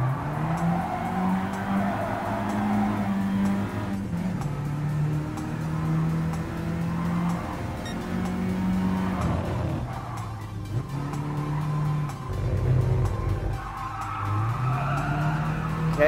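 A race car in Gran Turismo Sport drives hard, its engine droning and climbing in pitch with gear shifts and tire squeal, loud and continuous with no talking.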